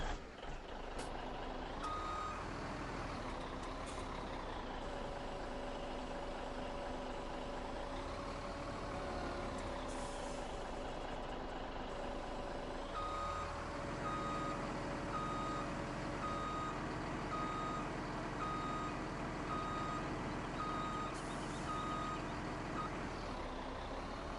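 A truck in Farming Simulator reverses with a steady, repeating electronic beep over a continuous engine drone, with an air brake hiss partway through.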